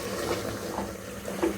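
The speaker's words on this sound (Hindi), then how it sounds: "अब हम इसमें डाल देंगे पानी" Half a litre of lukewarm water splashes and gurgles briefly as it is poured into a pot of browned mutton for aloo gosht, a steady close-up liquid rush with no talking.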